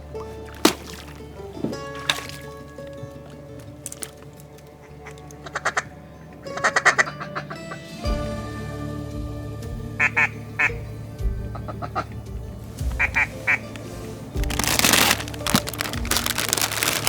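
Mallard ducks quack in bursts of several rapid calls spread through a wetland scene, some close and loud, others fainter, over a low steady background rumble.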